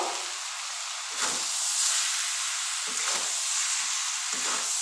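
Mixed winter vegetables being stirred in a pan after coriander leaves go in, a steady close sizzle and hiss with a few scraping stirs.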